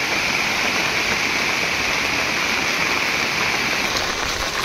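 Heavy downpour in a hilltop jungle where small streams are swelling, a dense, steady hiss of rain that stays loud and unbroken with no voices.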